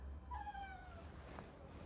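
A cat gives a single drawn-out meow indoors, wanting to be let out. The cry is moderately close and clear over a low room hum, with a brief faint sound following.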